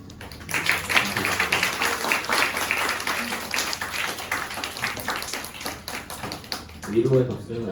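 Audience applause and clapping at a live club concert by a Korean indie act at Club Bbang, a dense steady patter lasting several seconds with a voice speaking over it before it thins out.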